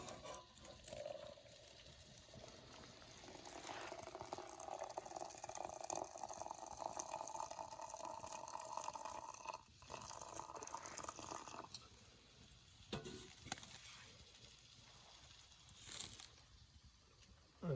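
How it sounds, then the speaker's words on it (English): Hot water poured for tea at night at a campground, a faint continuous trickle and fill sound over quiet outdoor ambience, ending with a few soft clinks. "We'll pour us some tea"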